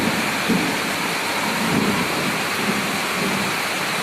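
A thunderstorm with heavy rain: a dense, loud downpour hisses steadily while low thunder rumbles underneath, with faint soft thumps of rolling thunder spread through the few seconds and no voices.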